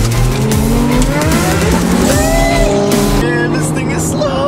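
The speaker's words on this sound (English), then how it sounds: "Oh my god, an Enzo." A loud Ferrari Enzo drives past on a highway with a sweeping engine roar that rises and falls, mixed with other cars, wind and road noise, while people talk excitedly nearby.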